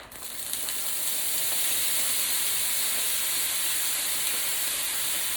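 Bagged riced cauliflower sizzles in olive oil in a skillet, giving a steady loud hiss that holds throughout, with no voices.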